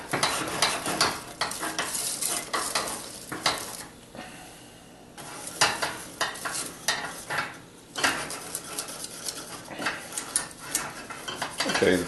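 A metal whisk scraping and clattering briskly around a warming pan, continuous rhythmic stirring with frequent metallic clinks, close and loud, a short quieter pause midway, no talking.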